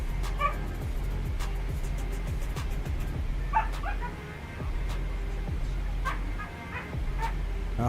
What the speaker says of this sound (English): I don't know if y'all hear the puppies in the background, they're wrestling.